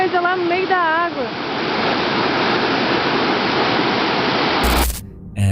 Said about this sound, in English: the cheerful sound of the waterfall